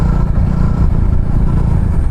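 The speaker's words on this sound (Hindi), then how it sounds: "काफ़ी स्मूथ तरीके से पुल करता है इंजन इसका. हल्का सा आप थ्रॉटल पुल करो" A Jawa Bobber 42 motorcycle engine, 2025 model, pulls steadily under light throttle as the bike rides, giving a continuous loud low-pitched drone with road rumble and no talk over it.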